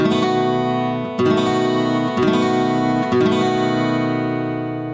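A five-string seventh chord on guitar strummed four times in a steady, unhurried rhythm. Each strum rings out full and close before the next one, with no voices.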